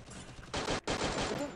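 Gunfire in the Free Fire mobile battle game: loud, dense automatic bursts with a brief gap between them, close and continuous.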